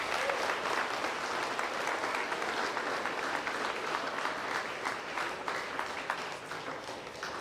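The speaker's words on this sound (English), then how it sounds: "So let's give these guys a quick round of applause." An audience at an awards ceremony claps steadily in a sustained round of applause, a dense even patter from many hands that fades slightly toward the end.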